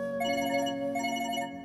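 A telephone rings steadily with a bright, sustained electronic tone, fairly close and alone with no talking over it.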